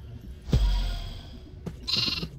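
A sheep in the Minecraft StoneBlock modpack video game gives a couple of short bleats, one loud near bleat followed by a shorter, higher call, with no talking.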